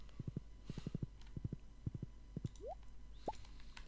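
Horse hooves clip-clopping in the farming video game Stardew Valley, a steady quick series of soft paired hoof taps, close and fairly quiet over a low hum, with a couple of short rising blips.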